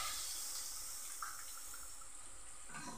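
Watery mustard paste is strained slowly by hand at a kitchen sink, giving a steady, soft trickling and splashing wash of liquid that runs evenly throughout.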